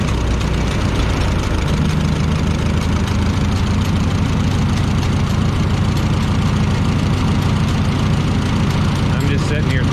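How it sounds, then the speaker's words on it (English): A Minneapolis Moline A4T tractor engine running with a Stanley muffler, loud steady idle with a low, even chugging throughout. "The motor just sounds real good. Not the right muffler for it, and it's a Stanley, but it's got a little nice sound to it."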